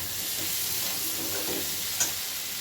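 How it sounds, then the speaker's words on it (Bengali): Spiced masala with chili powder and cumin powder cooking in a pan for a hilsa fish head curry, a steady soft sizzle with scraping stir sounds, one brief sharp clink near the end, no voices. "এবারে খুব ভালো করে মশলাটা কষাবো"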